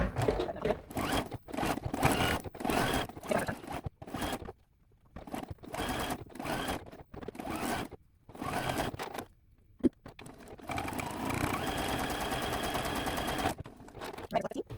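Sewing machine zigzag stitching quilt applique pieces, running in short close bursts with brief pauses between, then a longer steady run near the end.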